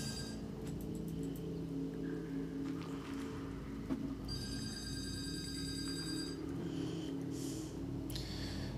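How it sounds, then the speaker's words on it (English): Telephone ringing in the background during a recording session, faint repeated electronic ring bursts over a low steady hum, no voices heard. "The phone's always ringing when I record."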